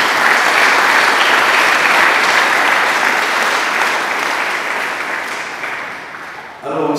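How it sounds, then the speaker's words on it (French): Loud, sustained applause from a Congolese family gathering honouring Marc Tabu, dense clapping that swells steadily and then tapers slightly toward the end, where a voice cuts in briefly. "Si vous voulez, applaudissez pour fort pour cette honneur."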